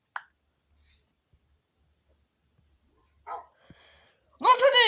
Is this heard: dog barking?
yes